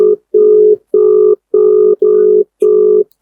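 A WhatsApp call ringing tone sounds loud and close: six steady, evenly spaced beeps, each about half a second long with short silences between them.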